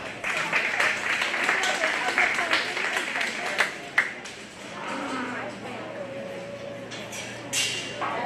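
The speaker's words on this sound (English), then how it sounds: "Let's give him a round of applause." A county fair 4-H and FFA beef and bucket calf show crowd applauds steadily with scattered claps and some background chatter, the clapping dense and continuous before thinning out.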